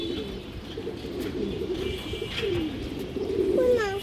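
A big Indian High Flyer Kaldom hen pigeon gives soft, rolling coos, close by over a faint background hum, with a longer, clearer coo near the end.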